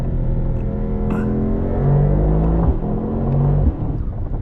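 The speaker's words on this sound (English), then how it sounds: "Did you hear that? The turbo spool?" A 2024 Mercedes-AMG GT63 two-door with a turbocharged V8 pulls strongly, a deep, loud engine roar with a whirring turbo spool rising and falling above it, heard continuously from inside the car.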